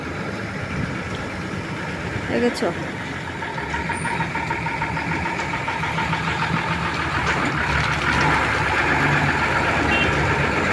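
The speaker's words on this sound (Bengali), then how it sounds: "ছোট্ট একটা রাস্তা, ধিমধারাক্কা একটা গাড়ি আসছে" A truck rumbles along a narrow village road past rice fields on a rainy morning, its engine growing louder as it approaches, with a sharp clack early on and one brief spoken word.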